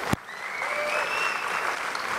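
An audience claps at a creation-versus-evolution debate. The applause is steady and sustained, and it begins right after a sharp single clap near the start.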